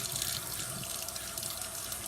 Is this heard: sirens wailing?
no